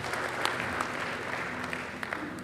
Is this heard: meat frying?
no